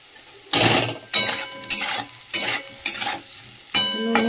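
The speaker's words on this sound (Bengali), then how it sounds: "এই যে আলুটা একটু তেলের মধ্যে নেড়ে নিয়েছি" Potato pieces stirred in hot oil with salt and turmeric, several distinct scraping stirs in a pan with sizzling bursts between them, near and fairly loud.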